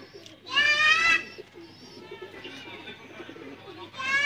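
Sialkoti black-mouthed pigeons coo and call close by, with a louder burst of bird calls near the start and someone talking quietly underneath.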